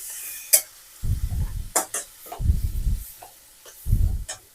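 Carrot and mango chutney ingredients stirred in a pan over low heat, with bursts of spoon scraping and stirring against the pan and a faint sizzle, coming in three separate rounds between short pauses.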